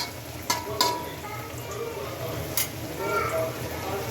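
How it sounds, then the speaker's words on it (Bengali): Flat beans frying in a pan give a soft sizzle, with a few sharp clinks of the stirring utensil against the metal. A voice speaks faintly underneath. "সিম একটু নেড়ে দিলাম"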